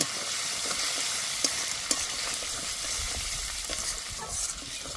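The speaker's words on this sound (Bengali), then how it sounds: "এবার দিয়ে দেব থেতো করা আদা, চেরা কাঁচা লঙ্কা। আদাটা ভালো করে ভেজে নেব।" Crushed ginger and slit green chillies fry in hot mustard oil, giving a steady close sizzle broken by a few sharp clicks of a utensil against the pan, with no talking.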